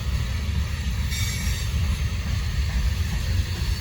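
Norfolk Southern freight train passing slowly, a loud continuous rumble of rolling cars with steady wheel noise and faint high squeals, close and alone.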